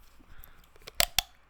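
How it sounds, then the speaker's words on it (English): A Pepsi has its top torn off up close, giving two sharp, crackly snaps about a fifth of a second apart after a few faint rustles, with no talking. "That was the sound of me tearing the top off."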